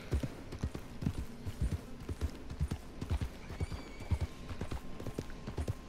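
A horse in Red Dead Redemption 2 clip-clops steadily at a walk, with even, close hoofbeats and faint background ambience.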